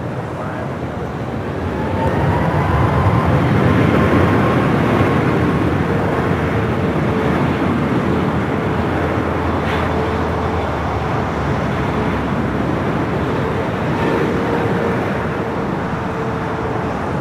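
An Air New Zealand Boeing 777-300ER at LAX gives off a steady, broad jet roar that swells after the first couple of seconds and holds loud for the rest, with faint airport background beneath.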